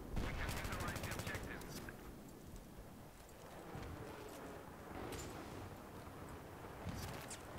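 Gunfire from behind in a Battlefield 3 multiplayer match on Caspian Border crackles in rapid bursts and scattered shots, muffled and fairly distant, with a player's voice talking over it.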